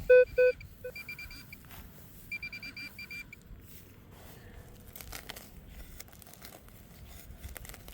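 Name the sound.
metal detector signal tone over a buried target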